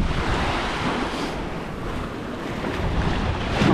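Waves of the Mediterranean Sea wash in a steady, continuous roar mixed with gusty wind noise on the microphone. The sound is close and fairly loud throughout, with no talking.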